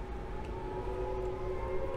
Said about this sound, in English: a good siren in the distance.